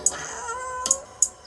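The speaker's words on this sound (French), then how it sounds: "Un chat, les gars." A cat gives a few short, sharp meows close by, three brief calls spread over about a second and a half against a quiet background.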